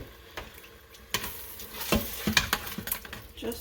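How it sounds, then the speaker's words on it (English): A spoon stirs cream cheese filling as it melts in a pan, scraping and sizzling in irregular strokes with occasional clinks against the pan, moderately close, no talking. "we're just going to keep stirring until our cream cheese is melted and thoroughly incorporated"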